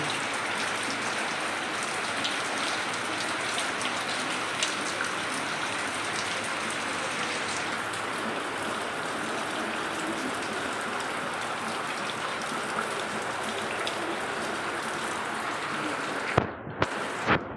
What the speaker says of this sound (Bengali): দেখেন আমাদের এখানে বৃষ্টি হচ্ছে